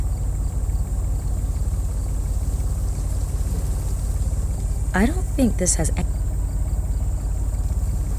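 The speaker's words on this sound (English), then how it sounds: "Engine sound." A steady, low engine drone from the video game Secret Files 3 runs throughout, with a person talking over it.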